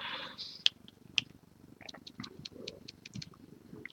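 A house cat purring up close in a quiet room, a soft steady low rumble running under scattered light clicks and small handling sounds.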